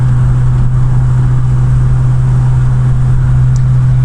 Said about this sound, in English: cruising nicely on the A6003 at 60 miles an hour